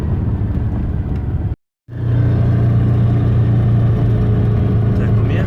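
Aixam City GTO microcar engine rolling down a steep hill at around 60–70 km/h, a steady loud drone with a brief cutout near the start, while people talk over it.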